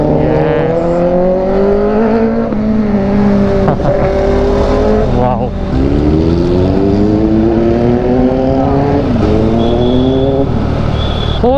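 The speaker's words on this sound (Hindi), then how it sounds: "इसका एग्जॉस्ट नोट जो है मुझे डिस्ट्रैक्ट कर रहा" Bajaj Pulsar NS200 motorcycle ridden on the road, its engine and exhaust droning loud and close throughout, with repeated rising and falling revs through gear changes.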